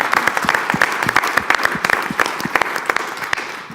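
A keynote audience gives a round of applause, a lively crowd of clapping hands with sharp individual claps standing out, steady and fairly close for several seconds.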